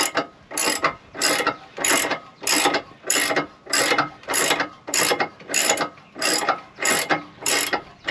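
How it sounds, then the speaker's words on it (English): A car jack being lowered under a Ram ProMaster van propped on wood blocks gives a loud, close, steady ratcheting: about a dozen rhythmic bursts of clicks, evenly spaced, with no talk. "So I'm just going to loosen the jack."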